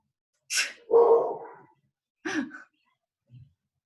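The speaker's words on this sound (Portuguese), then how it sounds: "Estão ouvindo até meu cachorro, né?" A dog barks a few times with short gaps between, fairly close but not loud, ending in a soft low whimper.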